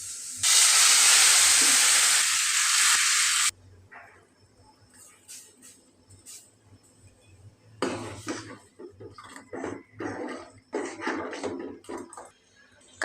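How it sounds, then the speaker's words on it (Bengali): Dal being tempered with hot oil: a loud, steady hiss for a few seconds, followed by quieter clinks and bursts of sizzling and stirring in a pot. "ডাল বাগার দিব।"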